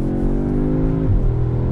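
Facelifted Audi S3 engine pulls hard, a steady close-up drone rising in pitch before a quick shift drops it, with no talking over it.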